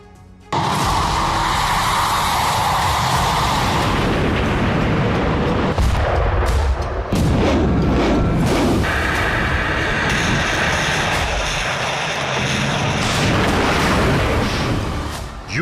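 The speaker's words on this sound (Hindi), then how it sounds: "सर्दी की शुरुआत हुई और इसी के साथ रूसी सेना की बमबारी भी विध्वंसक हो गई।" Continuous loud rumbling bombardment and artillery fire from a Russian attack in Ukraine, dense booming blasts with sharp impacts around the middle, steady and heavy throughout with no speech.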